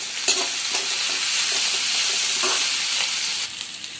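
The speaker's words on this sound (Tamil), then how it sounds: "இப்போ இஞ்சி பூண்டு போட்டு ஒரு நிமிஷம் வதக்கிட்டேன்." Ginger and garlic sautéing in a pan for paneer butter masala, steady sizzling frying with periodic stirring scrapes, close and alone without talk.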